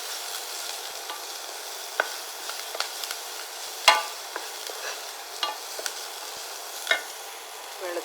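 Small onions sautéing with a pinch of salt give a steady low sizzle, broken by sharp scraping stirs and occasional louder clinks of the spoon against the pan, with no voices.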